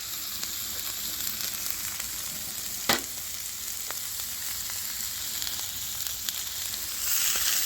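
Fajita vegetables sizzle steadily on a hot griddle, a constant close hiss with a single sharp crackle partway through, no voices.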